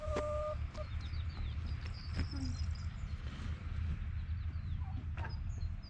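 Chickens cluck and call around a village house, the sounds near and moderately loud over a continuous outdoor background.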